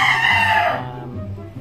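A Sweater-breed rooster of pumpkin Sweater bloodline gives a single loud, close crow that trails off quickly, with a faint low farmyard background.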